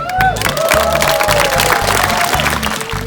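A crowd claps and cheers after a magic trick, with steady applause and whoops filling the space and some voices mixed in.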